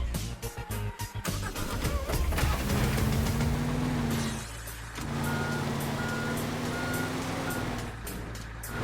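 Truck reversing beeps from a vehicle in the game Teardown, a steady repeating alarm tone held over a loud rumbling engine and music-like drone, with a brief dip midway.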